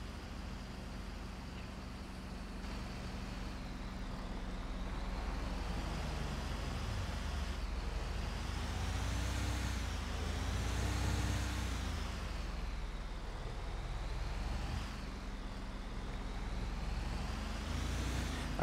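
An International LoneStar semi truck driving in GTA 5, a steady low engine drone with gentle rises and falls in pitch as it shifts and accelerates, with no voices.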